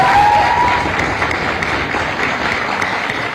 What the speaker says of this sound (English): we should give a big round of applause to all of them